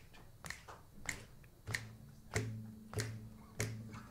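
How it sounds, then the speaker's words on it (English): Finger snapping from a concert audience at a guitar night, about seven crisp snaps in an even beat roughly every 0.6 seconds, with a low musical tone sustained between the later snaps. "Just snap your fingers"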